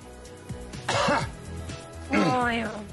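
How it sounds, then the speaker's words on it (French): A person coughs twice, two short harsh bursts about a second apart, close and fairly loud, with a throaty clearing quality. "Désolé, j'ai toussé."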